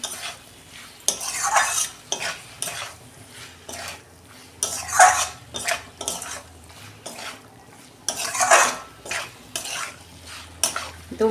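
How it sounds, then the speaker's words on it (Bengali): Kochur loti (taro stolons) being sautéed in a pan, with repeated bursts of a spatula scraping and stirring against the metal over a soft sizzle, close and without talk. "দু মিনিট আমি কষে নিই ভালো করে।"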